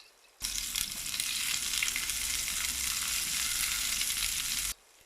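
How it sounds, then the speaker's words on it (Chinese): Garlic cloves, ginger slices and a handful of onion rings drop into a hot clay pot and sizzle loudly in oil, a dense steady hiss that starts abruptly and cuts off about four seconds later. "烧热砂锅，加几个蒜头，几片生姜， 一把洋葱圈，"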